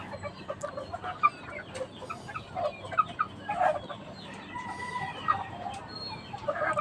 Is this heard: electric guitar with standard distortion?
no